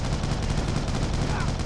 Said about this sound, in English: we've got a machine gun to play around with now